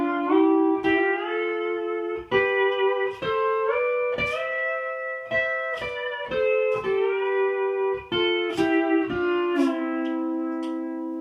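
A pedal steel guitar plays chords on strings 5 and 6, ringing harmonized notes that bend and slide between positions with separate picked attacks, clear and close, with no talking.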